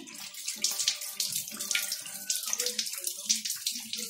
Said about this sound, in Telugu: ఆల్మోస్ట్ ఇప్పుడు నేను 5 మినిట్స్ వరకు కూడా నేను దీన్ని కడుగుతూనే ఉన్నాను.